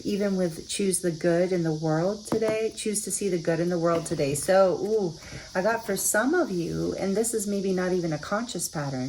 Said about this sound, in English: I'm sorry if you can hear the cicadas in the background.